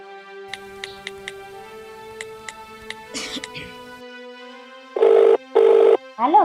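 A telephone call rings out with a steady electronic tone, faint clicks and small noises over it, then two short, loud tone bursts near the end.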